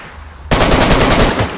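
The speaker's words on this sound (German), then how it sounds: "Bruder, hier fallen Schüsse." Rapid automatic gunfire in a video game bursts in loudly after a quiet half second and rattles on continuously, dense and close, with no talking over it.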